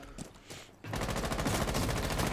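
Automatic gunfire in Rainbow Six Siege, starting suddenly after a brief quieter stretch and then a loud, rapid, evenly spaced burst of shots that runs to the end.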